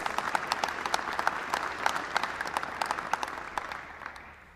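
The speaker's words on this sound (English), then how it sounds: "Can we give him a wonderful round of applause?" An audience claps steadily at a university white coat ceremony, many hands in a dense, even roll that slowly fades out toward the end.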